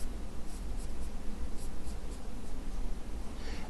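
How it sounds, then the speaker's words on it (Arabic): A red pen draws a diagram during a geology lesson on rivers, giving a continuous close scratching and scribbling with short strokes and no talk over it. "القلم الاحمر اللي انا هرسمه"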